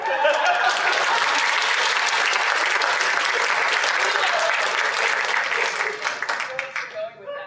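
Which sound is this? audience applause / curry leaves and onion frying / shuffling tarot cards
audience applause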